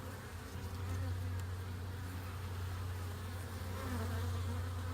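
Honey bees buzz steadily on a frame lifted from a nuc box, a close, continuous droning hum with a strong low tone that persists throughout, with no talking.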